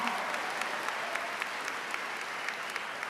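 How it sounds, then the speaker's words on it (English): Audience applause at a university College of Education spring commencement ceremony, a steady wash of many hands clapping at moderate distance with no talk over it. "Y'all can clap."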